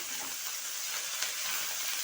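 Steady, close sizzling hiss of chopped wet spinach greens frying in oil tempered with spices, constant and fairly quiet with no voices.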